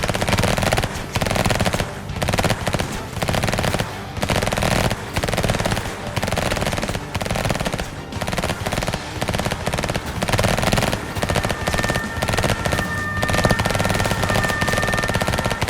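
Gunfire in the emergency-response video game EMERGENCY, heard as sustained, rapid automatic bursts that are loud and continuous throughout.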